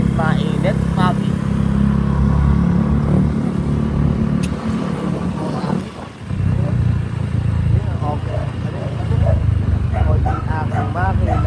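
Motorcycle engine running while riding on a Philippine road, a steady loud rumble throughout with a brief dip midway, with people talking over it.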